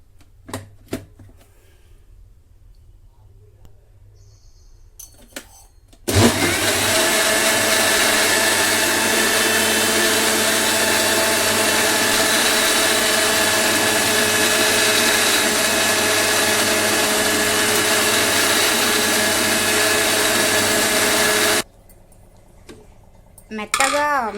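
A kitchen mixer grinder whirs steadily for about fifteen seconds, blending grapes with water into juice, starting and stopping abruptly with quiet moments before and after.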